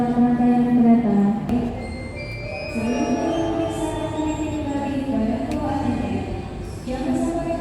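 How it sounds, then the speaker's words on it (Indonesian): Another train overtakes at an Indonesian station, heard from aboard a daytime Bandung–Jogja economy train as a steady droning engine hum with shifting tones and faint rail clatter, no talk. "kita akan disusul kereta di sini"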